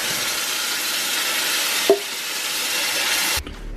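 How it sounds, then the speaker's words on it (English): Onion mix hitting hot oil with cumin seeds in a pan sizzles loudly and steadily, with a brief stir clatter near the middle, before the sizzle cuts off abruptly near the end. "Just gonna stir this until it gets a bit more brown."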